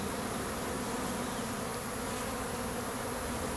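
Honey bees buzz densely around an open hive during a honey harvest, a continuous close, even drone with no pauses.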